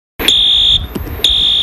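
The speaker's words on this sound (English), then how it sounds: "since when did Eric Medina install that fire alarm? Gonna keep blaring at me?" A video game fire alarm blares in loud, shrill, sustained electronic tones, broken by a brief gap before sounding again, with no talking over it.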